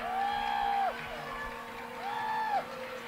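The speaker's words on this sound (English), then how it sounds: "And now the crowd's starting to make some noise." Crowd noise swells in a high school basketball gym during a close homecoming game against Emporia, with long sustained whoops or horn-like tones rising twice over a steady murmur of cheering.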